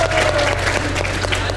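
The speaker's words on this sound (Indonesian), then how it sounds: "tepuk tangan dulu dong" Brief burst of studio audience clapping, steady and even throughout, with a low background hum underneath.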